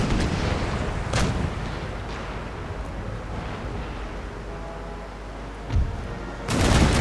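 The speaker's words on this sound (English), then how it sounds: "The sloop just opened fire." Cannon fire from sailing ships in the naval battle game Empire: Total War, deep booming shots with low rumbling over a dense battle din, with a loud close blast at the end.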